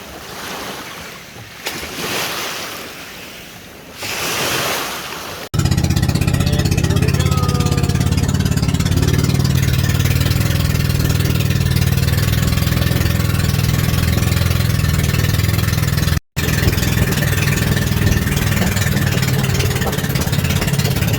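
A steady, loud boat engine drone with rushing wind and water, a small passenger boat heading to Mantigue Island, running continuously after a quieter opening, with one brief dropout.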